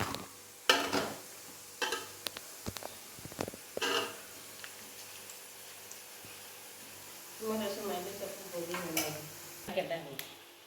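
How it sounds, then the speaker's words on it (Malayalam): Chicken being mixed with Kashmiri chili in a marinade, a series of close wet clinks, scrapes and squelching stirs that come in bursts, with a voice speaking between them. "എന്നിട്ട് ഇത് നന്നായിട്ട് മിക്സ് ചെയ്ത് കൊടുക്കുക."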